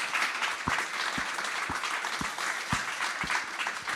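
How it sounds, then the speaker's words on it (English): A live podcast audience applauds for Stephen Welsh, a steady wash of clapping that holds for the whole stretch, with a few louder low thumps spaced evenly through it. "Everybody, Stephen Welsh, round of applause."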